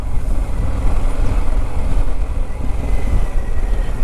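Wind buffeting a microphone outdoors on a hilltop road in Derbyshire, a loud, continuous low rumble that fills the clip steadily without pauses.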